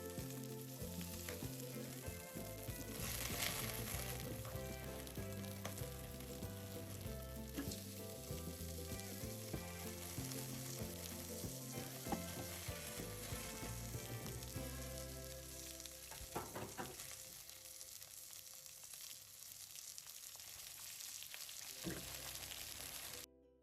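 Prawns pan-fry on both sides for a spicy dry-pot dish, giving a steady sizzle that runs throughout under loud, rhythmic background music.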